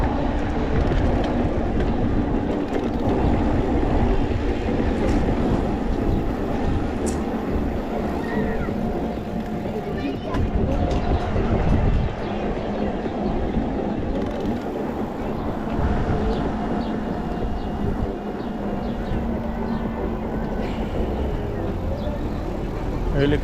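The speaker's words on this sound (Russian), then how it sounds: "Электричка едет, чуть-чуть не успели" An electric commuter train runs past nearby on a June day in Crimea, a steady loud rumbling roar with clattering wheels that persists throughout, with talk faintly underneath.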